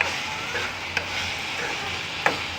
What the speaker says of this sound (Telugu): చూడండి మగ్గిపోతుంది కర్రీ మగ్గిపోయింది కదా బాగా మగ్గింది